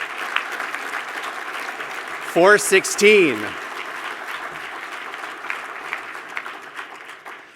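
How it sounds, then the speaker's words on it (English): An audience at a fundraising breakfast applauds in a steady, moderately loud wash of clapping, with a voice briefly speaking over it partway through. "So give a big round of applause."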